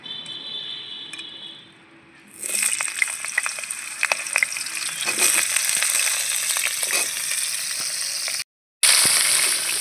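Cut cauliflower and carrot pieces hit hot mustard oil, bursting into a loud, steady sizzle and crackle that holds on without talk, broken once by a brief silence before the frying resumes.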